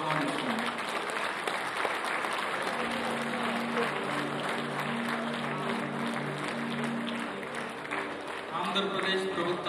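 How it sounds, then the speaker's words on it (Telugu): A seated audience rises and claps with both hands to welcome the Chief Minister at a Christmas celebration in a convention hall, sustained dense applause filling the room for about ten seconds as a voice speaks over it. "అందరం కూడా లేచి నిలబడి రెండు చేతులతో చప్పట్లు కొడుతూ సార్లు మనం ఆహ్వానిస్తున్నాం"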